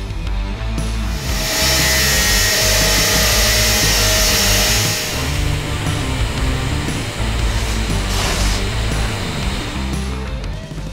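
A power tool cuts through round metal bar to make two 25mm pieces, a loud, continuous grinding whine close by that rises and eases for several seconds.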